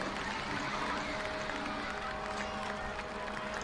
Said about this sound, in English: They're cheering for our success!